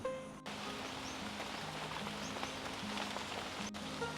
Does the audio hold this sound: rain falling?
yes